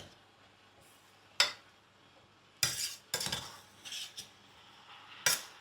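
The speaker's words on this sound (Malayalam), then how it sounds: "നന്നായിട്ട് ഇളക്കി കൊടുക്കാവേ." Curry being stirred in a pot with a metal spoon gives scattered scraping clinks and knocks in short irregular bursts, close but fairly quiet, with no voices.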